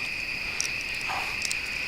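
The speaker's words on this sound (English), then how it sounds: "Lots of crickets." Crickets chirp at night under the pines at a campground, a steady, fairly quiet high-pitched trill that runs throughout, with a few brief extra chirps and no voices.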